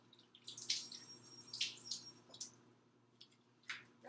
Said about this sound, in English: So I'm going to just wash these up really quick.